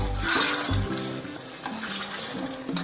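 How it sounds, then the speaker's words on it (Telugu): Water pours steadily into a paneer cashew curry pan, splashing and gurgling for a few seconds, close and fairly loud. "సో కొంచెం వేసుకోవాలండి వాటర్ మనం ఉడకడానికి"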